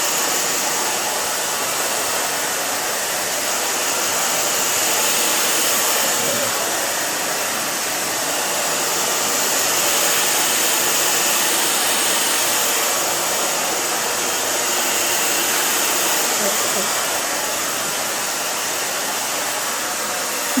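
A hand-held hair dryer blows steadily at close range for about twenty seconds while hair is dried during a haircut, a continuous loud broadband whoosh with slight swells and no talking.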